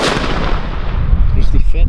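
A single 3-gram FP3 firecracker with a pre-fuse set off on New Year's Eve: a loud, close, booming blast that rolls and decays into echoing rumble, with faint voices near the end.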